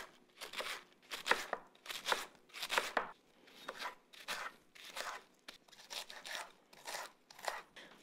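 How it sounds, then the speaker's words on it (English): A knife slices cabbage into thin shreds in a quiet kitchen, each burst a crisp, crunchy cut, coming in a steady rhythm of about one per second, near and clear. "just cut that into really skinny pieces"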